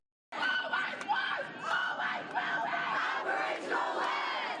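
An angry crowd of protesters at an Invasion Day rally in Australia shouts and screams continuously at cricket fans arriving for a match, a dense, loud wall of overlapping yelling voices with repeated surges.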